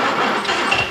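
A Jaguar S-Type racing car engine idles in a brief, steady, fairly loud rumble heard close up, with no talk.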